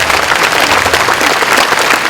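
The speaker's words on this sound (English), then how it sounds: "Give him a round of applause for that." A lecture audience applauds a speaker, dense steady clapping filling the hall with no voices over it.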